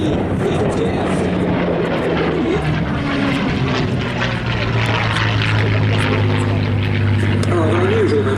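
A Curtiss P-40F fighter fitted with a Merlin engine, a loud sustained propeller drone with shifting pitch as it passes, under a narrator's voice.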